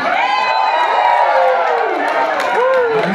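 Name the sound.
loud shouting from the crowd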